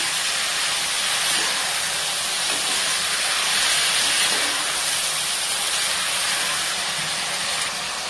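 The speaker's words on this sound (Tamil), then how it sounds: "நல்லா வதக்கி விடுங்க." Three cut tomatoes sautéing in a pan while making bottle gourd rice, a constant loud sizzling hiss that stays even throughout with no talk.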